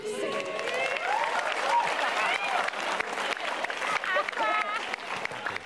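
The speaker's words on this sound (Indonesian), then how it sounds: "Beri tepuk tangan untuk Bintang dan Semi." Applause from the audience at a stand-up comedy show, steady clapping throughout with a speaker's voice and crowd noise running over it.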